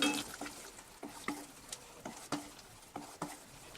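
Onion masala paste being stirred into cooked tomato puree in a pan for hotel-style matar paneer, giving soft, repeated wet scraping and patting strokes in a steady rhythm, close and fairly quiet with no talking.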